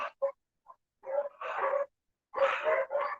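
Dogs bark in short, loud bursts, a few quick single yaps followed by longer clustered barks, close by with silent gaps between.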